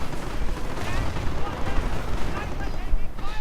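Gunfire and explosions in a World War II strategy game, with dense overlapping shots and booms, crackling bursts and rumbling blasts close and loud, while a commentator talks over the fighting.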